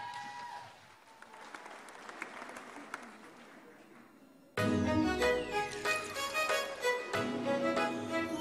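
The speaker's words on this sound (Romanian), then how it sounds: "Haide să-l întâmpinăm cu aplauze." An audience at a children's music festival gala applauds to welcome a performer: faint clapping at first, then a sudden loud burst of sustained applause with music, from a sizeable crowd.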